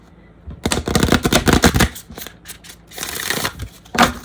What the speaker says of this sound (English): passable riffle shuffle